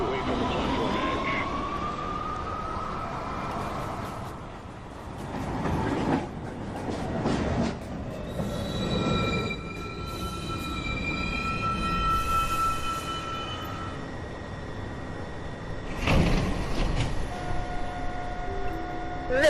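A New York City subway 1 train approaching the station, rumbling and clattering close by with high wheel squeals rising and fading, and a loud burst of noise near the end.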